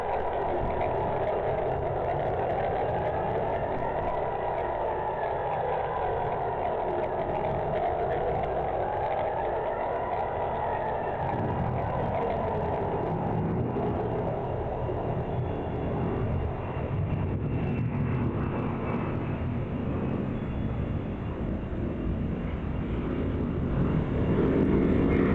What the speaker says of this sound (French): On entend un avion atterrir, un avion qui atterrit.